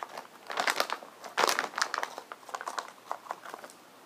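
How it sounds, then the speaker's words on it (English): Crinkling and rustling right against the microphone, like plastic or paper being handled, in irregular bursts of crackly noise that swell and fade over several seconds with no talk. "You're rustling around."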